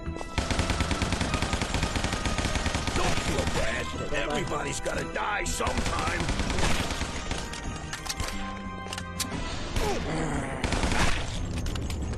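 Shotgun gunfire in the zombie-mafia shooter game Gun, Gore & Cannoli, heard as a dense, loud barrage of blasts and crashes over game music, with a player talking throughout.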